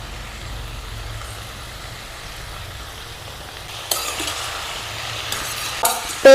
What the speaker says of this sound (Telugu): మంచిగా వేగాలి ఇవి నూనెలా. ఇవి ఇట్లా వేగుతుంటే